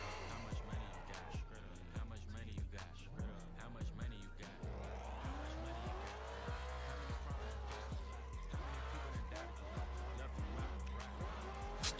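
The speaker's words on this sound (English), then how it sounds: "I fucking love how this engine sounds" A drift car with a VQ engine and straight-cut gears revs hard through a tandem drift event, with tires squealing and skidding loudly throughout as the engine note climbs and falls, with hip hop music faintly beneath.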